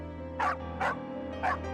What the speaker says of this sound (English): The moment he saw the doll, he started barking and growling